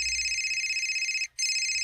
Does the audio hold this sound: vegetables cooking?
no